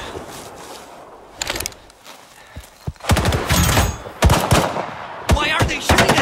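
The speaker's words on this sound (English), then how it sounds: "Why are they shooting at us?" Automatic gunfire in the shooter game STALKER 2: Heart of Chornobyl, with loud, close rapid bursts breaking out in several separate volleys between quieter stretches of ambient noise.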